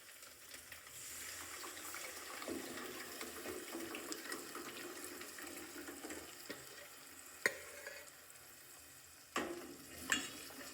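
Gravy added to a frying pan for kadhi, bringing a soft continuous sizzle and watery bubbling. A few sharp clinks of a utensil against the pan come near the end, all fairly faint.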